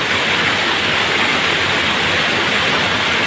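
Deep floodwater rushes strongly through an unfinished drainage canal in a flood-hit area of Montalban, Rizal, a loud, continuous roaring wash with no breaks.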